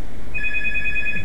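Rapid electronic telephone ringing starts abruptly and pulses steadily over a constant low background rumble in the Tom Clancy game, with no talking.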